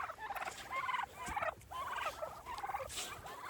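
Several turkeys, toms and hens, gobble on a homestead on a brisk morning, loud rapid warbling calls overlapping one another in bursts, close at hand with no talking.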